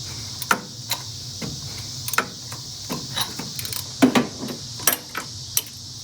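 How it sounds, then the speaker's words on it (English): A socket wrench loosens the AC pulley bolts on a 1972 GT fitted with an original GM air-conditioning system, giving close, sharp ratcheting clicks in irregular bursts with no talking. "And now take my socket wrench. I should be able to loosen this pulley bolts"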